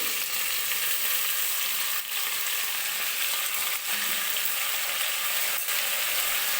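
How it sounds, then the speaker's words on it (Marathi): Beetroot and peas for pav bhaji sauté in hot oil, giving a loud, steady, close frying hiss with a few faint stirring scrapes, no one talking. "आणि व्यवस्थित तेलामध्ये 1-2-3 मिनिटासाठी मी परतून घेणार आहे ह्या भाज्या"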